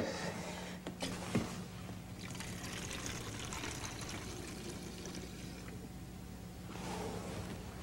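Wine poured into a glass of fizzy SodaStream soda water, giving a soft, close trickle and fizz that runs steadily for several seconds at low volume.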